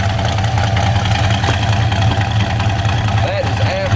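A car engine fitted with a Holley carburetor idles at its exhaust, a steady low rumble held at one level, with a brief squeal near the end.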